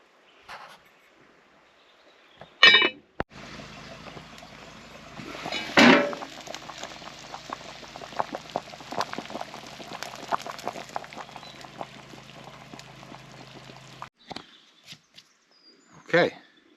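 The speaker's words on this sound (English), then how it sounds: "back on boiling" Pot of pork jelly stock at a steady boil, soft continuous bubbling and popping heard close up for about eleven seconds, bracketed by a few louder clanks.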